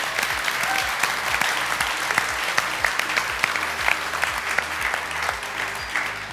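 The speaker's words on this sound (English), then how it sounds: "Let's give her one more round of applause tonight" A crowd at the Chwarae Teg Womenspire Awards 2022 ceremony applauds a poet, sustained dense clapping across the hall with a low rhythmic music beat pulsing underneath throughout.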